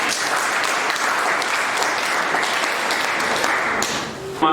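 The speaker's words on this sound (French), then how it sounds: "Voilà, on applaudit, c'est lui." Crowd applauding as performer Pie Tshibanda is introduced at a diocesan jubilee celebration, thick continuous clapping that holds steady and thins out near the end.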